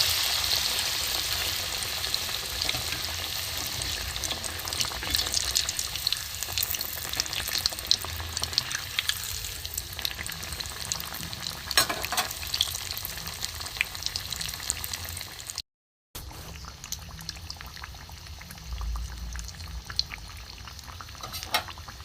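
Soybean chops coated in gram flour batter fry in hot oil, giving a continuous bright crackle and sizzle throughout, with occasional spoon clinks and a brief break near the end.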